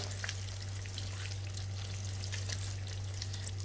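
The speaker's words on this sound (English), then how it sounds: "And now add all the peppers and onions. Give it a stir." Peppers and onions fry with paneer in a karahi, making a fine crackling sizzle that runs steadily throughout. Faint stirring is heard beneath it along with a low background hum, and no one speaks.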